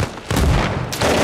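MG42 machine gun in the Arma Reforger game, set in Helmand Province, firing a loud, dense burst up close, with a brief dip before the rattle surges back in.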